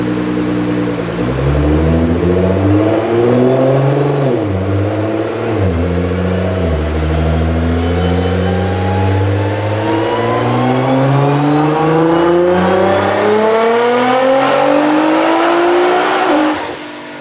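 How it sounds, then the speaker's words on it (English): A 2014 Nissan GT-R fitted with a Boost Logic 1200 turbo kit revs hard and loud, the engine pitch dipping, then climbing in a long sweeping rise before cutting off, with no talk. "So this car's gonna rip."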